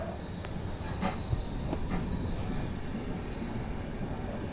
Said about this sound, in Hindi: चलिए यहाँ पर शिकोहाबाद जंक्शन अपनी ट्रेन ने जो है धीमी रफ्तार में स्किप कर दिया है।